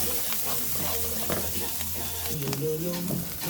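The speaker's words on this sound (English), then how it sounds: "continue sauteing this" Jackfruit chili with spices sautés in a pan, a continuous moderate sizzle with stirring scrapes and clinks, and faint voices or tones in the background.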